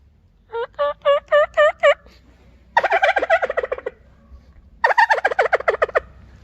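A turkey gobble call used while turkey hunting, imitating a tom with three rapid rattling gobble bursts, close and clear, the last two longer and louder than the first.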